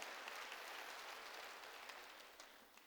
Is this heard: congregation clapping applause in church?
yes